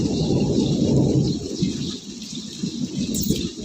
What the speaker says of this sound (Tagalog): may kulog-kulog na